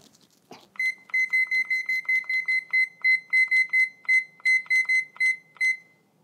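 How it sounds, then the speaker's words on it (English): A kitchen timer beeps in a steady series of sharp, high-pitched electronic chirps, about a dozen short bursts in a regular rhythm, loud and close after a brief clatter. "So we're going to set your timer for 20 minutes"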